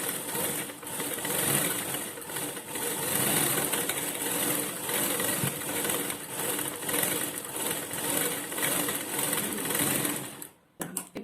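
A sewing machine stitching a second round on gathered shimmies in tailoring, a steady close rapid whirring hum that runs for several seconds and then stops abruptly at the end.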